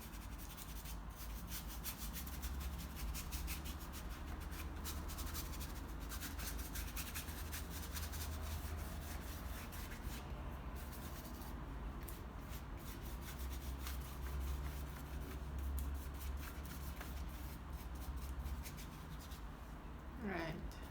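A paintbrush softly rubs and drags as it layers paint onto a seascape painting, a faint, steady scratchy brushing that continues for the whole stretch with little pause.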